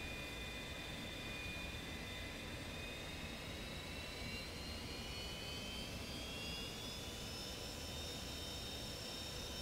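Jet engine of an aircraft in the DCS flight simulator spooling up with the parking brake set, a steady loud roar with a rising whine that climbs slowly throughout, no talking.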